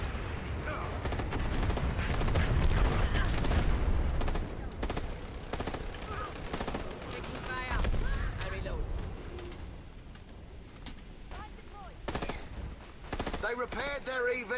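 Fire support strike in the shooter game Dirty Bomb: rapid bursts of heavy gunfire and sharp impacts repeat loudly through the clip, mixed with dense battle noise and a player talking over it.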